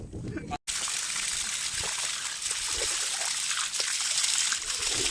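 Natural water running from a tap outdoors on a Kothaligad trek, a continuous close splashing trickle that fills the whole stretch after a brief cut, with voices chatting faintly underneath.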